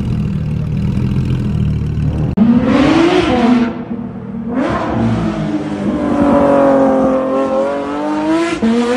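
Straight-piped Porsche 992 GT3 RS flat-six revving hard, loud close rasping bursts that climb and fall in pitch over several rev sweeps, with no talk.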